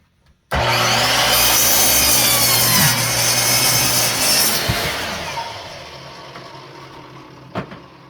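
A power saw bites into a wooden plank at a 4.5 inch mark, starting abruptly into a loud, sustained grinding cut of about four seconds, then winding down while a few light knocks follow.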